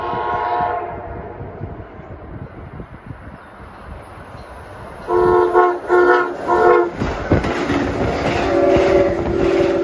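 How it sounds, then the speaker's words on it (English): Amtrak train 652 on the Keystone Corridor between Harrisburg and New York rushes past with rumbling wheels, then its horn blares in a series of loud blasts followed by a long sustained tone. "I can hear a distant horn and I can see the approaching Amtrak train 652 en route from Harrisburg to New York."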